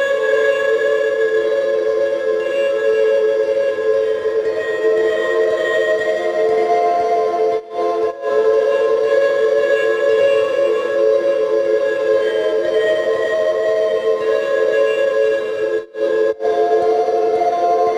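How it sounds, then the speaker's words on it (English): A sustained harp pad sidechain-compressed by drum samples, holding a steady tone that dips briefly in volume twice as the drum hits duck it, loud and continuous with no voice. "This is what the harp is going to sound like when the drum beats hit."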